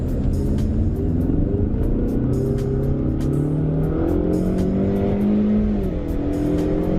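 A Ford Mustang on a Dallas road pulls hard from first gear, its loud engine note rising and dropping as it shifts up through the gears, steady and close with no talk.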